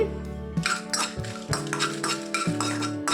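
Dried red chillies roasting in a pan while being stirred with a metal spoon, giving a steady run of close scraping clinks and clatter against the pan.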